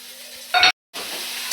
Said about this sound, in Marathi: कांदा तर चांगला फ्राय झाला त्यामध्ये ते शेंगदाणे ॲड करते